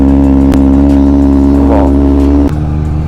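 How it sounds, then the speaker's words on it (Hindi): A 6R motorcycle idles loudly just after a cold start, its exhaust giving a deep, steady throb close up, with a couple of sharp blips in the engine note. "अभी कोल्ड स्टार्ट करते हैं 6R को। आवाज़ सुन रहे हो गाइस?"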